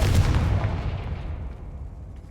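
A Confringo fire spell goes off in the video game Hogwarts Legacy as a single deep, booming blast that rumbles and slowly dies away over two seconds, with no voices over it.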